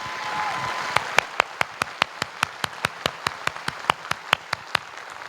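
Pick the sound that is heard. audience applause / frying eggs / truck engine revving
audience applause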